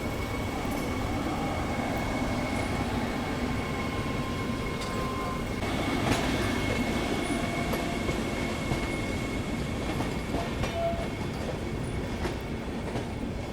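A Namo Bharat rapid rail train (Vande Metro) rumbles past near Patna Junction, wheels clattering on the rails with faint squeals, loud and steady throughout.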